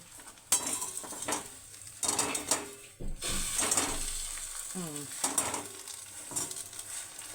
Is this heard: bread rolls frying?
yes